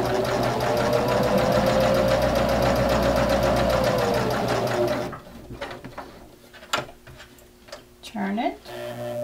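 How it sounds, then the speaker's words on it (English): A sewing machine runs steadily for about five seconds, stitching closed an opening in a small fabric screen cleaner with a fast even needle chatter, then stops, leaving faint handling clicks and rustles. "stitch that opening"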